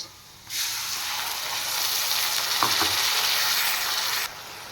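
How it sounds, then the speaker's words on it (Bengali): Onion paste sizzling in hot oil, a dense steady hiss that starts suddenly, holds loud and close with a couple of faint stirring taps, then drops away. "পেঁয়াজ ফ্রাই হয়ে গেছে, এবার দিয়ে দেবো আমি পেস্ট করে রাখা পেঁয়াজ"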